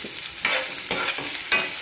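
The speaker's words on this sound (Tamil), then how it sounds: "வெங்காயம் கொஞ்சம் வதங்கட்டும்." Chopped onions for tomato thokku sautéing in a pan, a close sizzle broken by a few distinct spatula scrapes and stirs at regular intervals.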